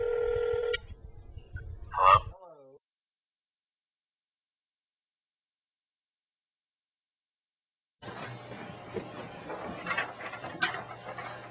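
A short burst of telephone keypad dialing tones is followed by a single ringing tone, then several seconds of silence before a stretch of muffled background noise.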